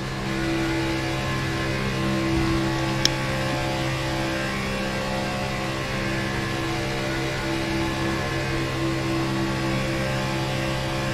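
Onboard sound from a stock race car at Talladega, a sustained high engine drone at steady speed with a brief click partway through and no voices.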